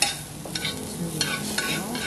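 Cucumber being stir-fried in a pan for Korean bibimguksu, with a soft steady sizzle and a few scraping strokes of a spatula, close and fairly quiet, with no talk.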